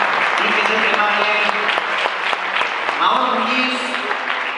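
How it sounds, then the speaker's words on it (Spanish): Audience applause for a presenter at a Maker Faire pitch event in Galicia, steady, dense clapping filling the room throughout, with a voice speaking over it near the end. "Fuerte aplauso para Pablo"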